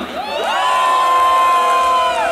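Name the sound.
concert crowd shouting on request at live rap show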